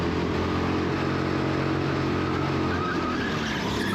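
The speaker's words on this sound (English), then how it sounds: "let me show you an example of, carrying lots of throttle way deep into it" Race car carried deep into a corner under heavy throttle, a loud continuous engine roar close up with a steady drone and no pause throughout.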